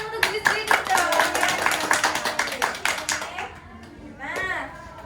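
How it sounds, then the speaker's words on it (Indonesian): Children in a fifth-grade classroom clap for themselves, a lively burst of quick near claps that thins out toward the end, with children's voices chattering over and after it. "Kasih tepuk tangan untuk diri sendiri dong."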